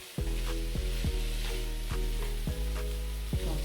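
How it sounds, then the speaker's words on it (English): Sweet potatoes and sausages fry in a pan while a utensil stirs them, a strong hiss under a low steady hum, punctuated by regular sharp knocks and scrapes against the pan about twice a second. "I'm stirring it."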